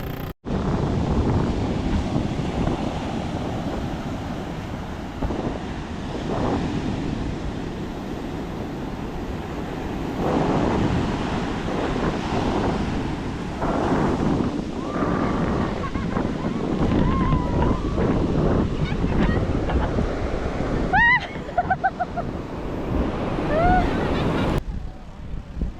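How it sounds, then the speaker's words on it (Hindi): Sea waves break continuously along the shore at Madhavpur beach near Dwarka, a steady rushing surf with wind buffeting the microphone; a short shout and a few sharp whistle-like tones cut in near the end. "इसलिए मैं अब समुद्र की लहरों के पास जा रही हूँ।"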